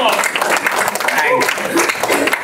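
A congregation claps together during a church baptism service, a lively, uneven patter of many hands under excited voices and cheering.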